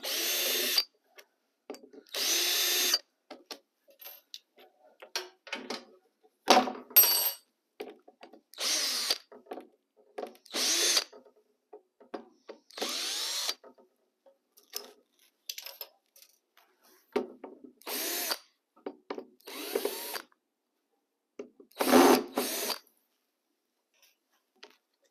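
A power drill runs in repeated short bursts as hardware is backed out of an RV cabinet door, with small screws and metal bits clinking down between the runs.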